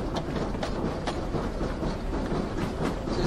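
A train carriage in Turkey makes an abnormal, constant rattling and clattering as it runs along the rails. The loud, dense metallic noise fills the whole stretch with no talk over it.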